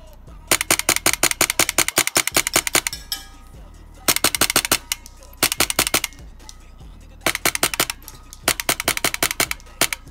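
A Polarstar Kythera airsoft gun fires close and loud in rapid bursts of sharp, clacking shots, with short pauses between strings of fire.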